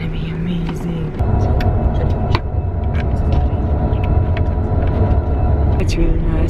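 Inside a moving bus in Prague, a steady low engine rumble and road drone continue throughout, with a shift in engine tone early on and quiet voices talking over it.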